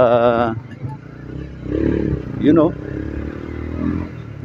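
A motorcycle rides along a long queue in Davao, its engine droning and shifting pitch beneath someone talking, with a brief louder surge midway.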